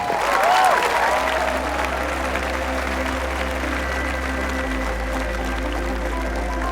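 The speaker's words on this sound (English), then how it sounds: "The crowd started cheering." Golf gallery applause and cheering at a tournament, a broad steady wash of clapping that swells early and then holds at a sustained level with a low hum underneath.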